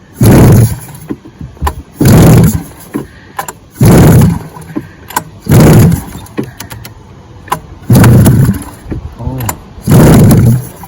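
A vintage Polaris triple engine sputters and fires in a series of loud, close bursts, about six of them, each lasting under a second, with short quiet gaps and faint clatter between.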